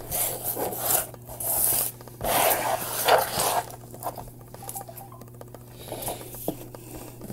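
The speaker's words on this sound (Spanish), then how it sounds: "Aquí tengo una lija y es la P240" Hand sanding with P240 sandpaper on a handmade Christmas craft piece: repeated close rasping rubs in uneven bursts, louder strokes early then softer scrubbing, no talk.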